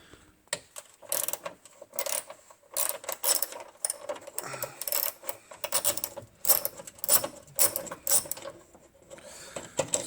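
A ratchet removes a 10 millimeter screw from the airbox of a 2005 BMW X5 e53 4.8is, giving quick bursts of close metallic clicking separated by short pauses.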